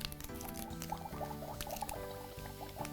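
A toy potion mix pours and bubbles with quiet, close liquid patter and small fizzing pops. Repeating electronic tones from the toy sound over it.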